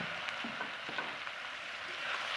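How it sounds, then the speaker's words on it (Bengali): Elephant apple (chalta) being stirred in hot mustard oil with five-spice seeds and bay leaf makes a faint, even frying hiss with a few soft scraping touches, no talking. "চালটাটা নেড়ে নেব"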